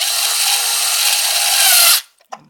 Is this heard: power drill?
yes